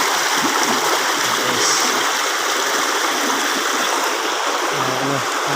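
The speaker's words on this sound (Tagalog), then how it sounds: "Gilid ito ng sapa." A stream flows close by in a constant, full rush of water that stays loud and unbroken from start to end.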